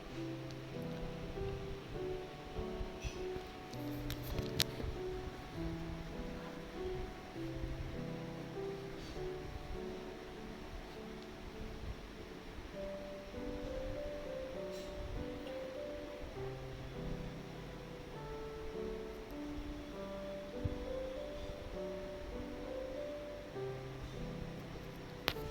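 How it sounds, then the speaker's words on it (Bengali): Onion paste fries in hot oil with a soft, continuous sizzle and crackle. It stays quiet and even throughout, with faint kitchen sounds in the background. "এরপর আমি দিয়ে দেব পেঁয়াজের পেস্ট। পেঁয়াজটাকে আমি একটু ভালো করে ভেজে নেব।"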